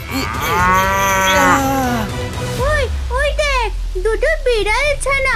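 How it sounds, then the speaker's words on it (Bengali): A cow gives a long, loud, close moo, followed by someone talking in quick bursts, with a low rumble of floodwater or wind underneath. "ওই দেখ, গরুটা ডাকছে"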